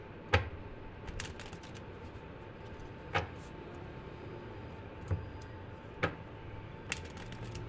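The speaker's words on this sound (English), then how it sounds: "I've shuffled it properly" Soft card shuffling with scattered quiet flicks and snaps, a few sharper riffles standing out against a faint room hum; no one speaks.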